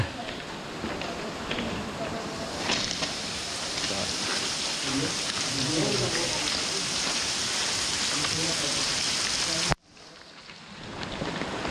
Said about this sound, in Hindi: बट बहुत जोर से बारिश, यू कैन सी।